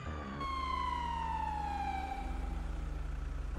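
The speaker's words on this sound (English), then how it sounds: "Turn on the siren?" An emergency vehicle siren wails close by, a steady tone sliding slowly downward over a loud idling engine rumble, with no talking.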